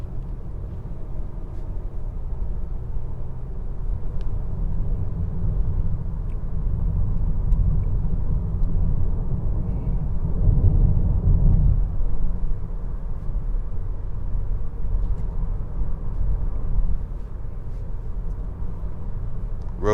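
Steady low road rumble inside a 2021 Honda Accord 2.0T Touring on 19-inch rims while driving, a constant muffled drone with a brief swell near the middle and no talk.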